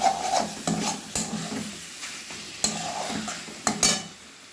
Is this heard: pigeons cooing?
no